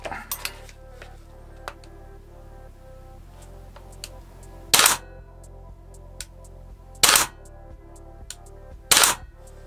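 Airsoft M4A1 DAS GBLS rifle cocked and dry-fired with no magazine, three sharp loud metallic snaps spaced a couple of seconds apart over faint clicks and handling noise.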